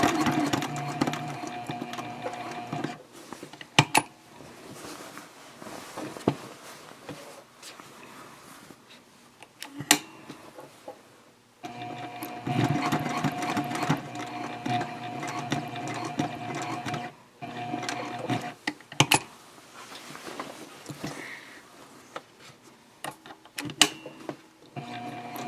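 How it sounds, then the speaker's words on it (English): A home sewing machine hums in repeated runs while sewing across the top of an eco-friendly fabric shopping bag, with short pauses, clicks and fabric handling between the stitching bursts. "And then I'll just sew across that top one more time."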